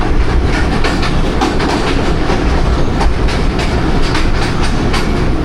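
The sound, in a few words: Allama Iqbal Express train passing Badami Bagh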